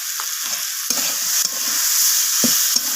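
Vegetable curry is stirred and mixed in a pan after sugar goes in. A loud, steady sizzle runs throughout, broken by a few scraping knocks of a utensil against the pan, and no one speaks.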